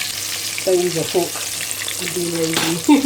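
Chicken wings crackle steadily in hot frying oil close by, with light stirring in the pan, while a voice speaks briefly over the sizzle.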